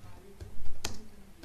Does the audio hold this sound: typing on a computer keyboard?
yes